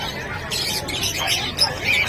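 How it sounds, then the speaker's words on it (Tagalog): African lovebirds squawking and chirping at a busy bird market, short high calls scattered over crowd chatter and nearby talking. "Ayan yung mga ibon ni Boss Khalid."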